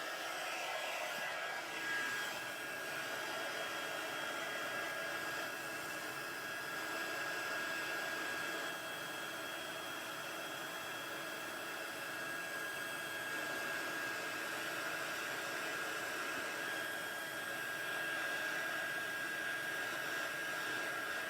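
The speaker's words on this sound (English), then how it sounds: "Bringing my heat tool back." A heat embossing tool blows a steady, even stream of hot air for about twenty seconds over stamped embossing powder, loud and close with no talk.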